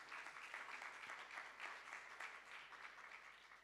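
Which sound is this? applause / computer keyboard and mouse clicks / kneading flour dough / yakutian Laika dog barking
applause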